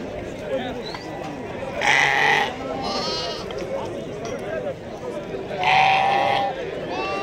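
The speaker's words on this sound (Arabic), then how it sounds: "هذا خرفان صغار" Young sheep bleat twice, several seconds apart, over a busy background of people talking nearby at a livestock market in Azrou, Morocco.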